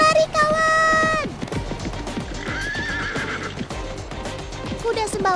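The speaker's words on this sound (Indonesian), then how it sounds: "kuda Sumba juga terkenal sebagai kuda pacu" Sumba horses at a beachside race, a drawn-out whinny followed by steady hoofbeats and rumbling movement, loud and close, with a later whinny near the end.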